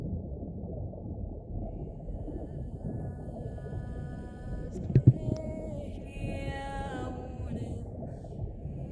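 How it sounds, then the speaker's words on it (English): A distorted underwater siren song, with low murky rumbling water noise beneath eerie warbling, whale-like tonal calls that rise and bend, faint to moderate and without speech. "This is the sound of the siren song of your people."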